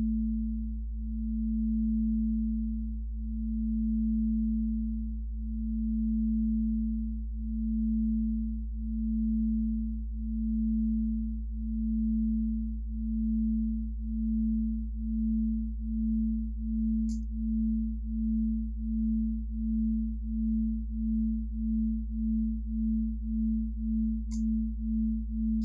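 Two sine tones 2 Hz apart, patched in VCV Rack, beat as one steady low hum that swells and dips in loudness, the pulses quickening over time; a couple of faint clicks occur.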